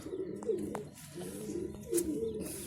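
Pigeons coo in soft, low, throaty calls, close by and fairly quiet, with a few short chirps mixed in against a faint background.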